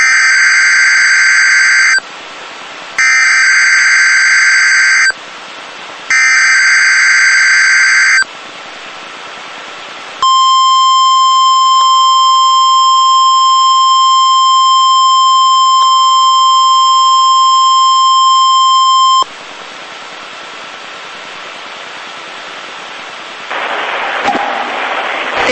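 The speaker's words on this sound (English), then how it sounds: "The preceding signal was a test of the NOAA Weather Radio's public warning system." NOAA Weather Radio emergency alert test signal: three loud bursts of harsh data tones separated by short gaps, then a long steady attention tone lasting about nine seconds, followed by quieter broadcast background.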